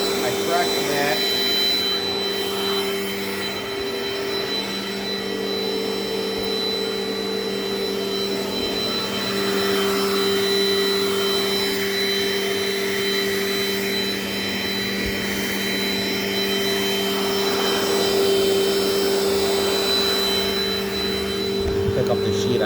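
A Dirt Devil Dynamite Plus vacuum cleaner running continuously with a loud, steady motor whine and a bright tonal hum, holding level for the whole stretch with slight shifts in pitch as it moves.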